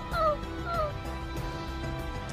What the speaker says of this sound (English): Pochi, stop barking.